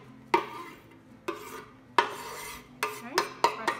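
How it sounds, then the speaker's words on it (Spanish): Chopped parsley is tipped into a clean salad spinner, giving several separate clattering knocks of plastic and utensil on the container at irregular intervals, close and moderately loud, with no talking. "yo lo voy a vaciar a este secador, está súper limpio"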